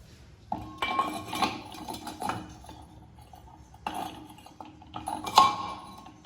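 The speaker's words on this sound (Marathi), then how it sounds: "आपल्याला याला असं चिमट्याने पकडून त्या दुसऱ्या पातेल्यात ठेवायचं आहे दोघं मटक्यांना" Hot clay tea pots lifted with tongs and set into another metal pan, a few separate clinks and scrapes of metal against clay and pan in short bursts with quiet gaps between, close by.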